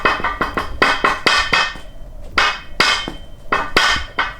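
Sharp hammer taps knock a telescopic sled deck sideways into place, a quick irregular run of loud, close, ringing strikes with brief pauses between bursts.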